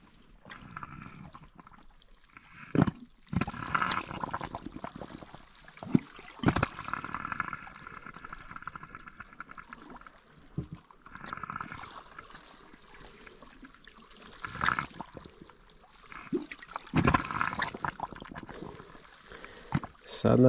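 Sea water surges and splashes in repeated bursts through rocks, with rushing, hissing swells rising and falling over a constant background wash.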